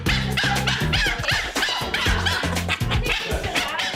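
Puppies yap and bark in rapid, overlapping bursts at a puppy training class in Bondi, with a few whimpers and squeaks, loud and close for the whole stretch.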